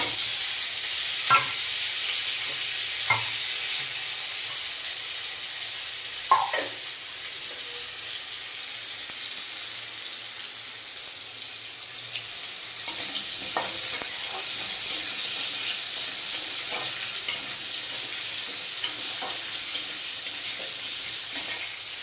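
Potatoes fry in oil with cumin seeds and bay leaves in a home kitchen, a steady broadband sizzle running the whole time with occasional clinks and scrapes of stirring and a brief trickle of water.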